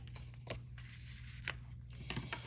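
Metal snips cut off the excess of a paper stem in a few quick, quiet snicks spaced about a second apart, close by against a low steady hum.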